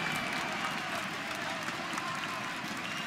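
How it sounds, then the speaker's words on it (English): A large esports crowd at a CS:GO match between FaZe Clan and SK Gaming roars steadily in the distance for a few seconds, a dense wash of cheering and clapping. "The crowd's in rapture."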